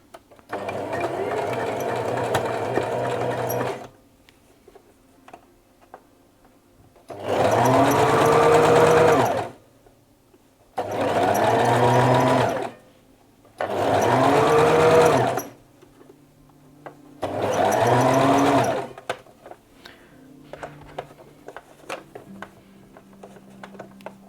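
Sewing machine stitching pajama fabric in four loud, steady bursts of a few seconds each, separated by short quiet pauses with faint handling noise.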